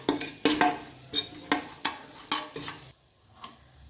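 A spoon scrapes and clatters in a rhythmic series of strokes as salt and ground garam masala are stirred into frying green chickpeas for rice, with a soft sizzle beneath, ending in a near-quiet pause and one last tap.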